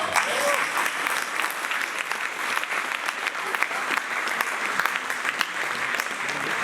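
An audience applauds at a medal ceremony, steady dense clapping that carries on for several seconds at moderate volume with no talk over it.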